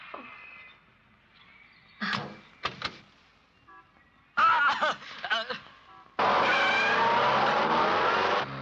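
A car carrying a woman and a driver in a Hindi film scene, heard in scattered bursts and then a loud, steady rush of engine and road noise near the end, mixed with short voiced sounds and other film audio.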